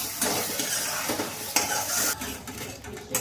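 Dum aloo potato gravy fries in oil while being stirred, making a close, bright sizzle with quick utensil scrapes and a couple of clanks against the pan, with no talking.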